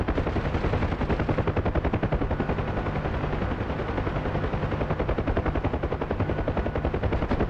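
Rapid machine-gun fire from a helicopter combat video game, with tracer rounds in play, hammers on without a break in a dense, even rhythm of shots throughout, loud and close, with no talking.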